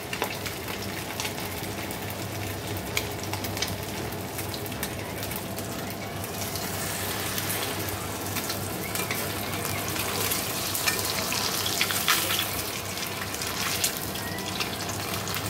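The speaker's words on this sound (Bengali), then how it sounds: "এরকম করেই ভেজে নেব সব ডিমগুলো।" Eggs frying in oil in a pan, giving a steady, soft sizzle with occasional stirring scrapes, continuous and fairly quiet.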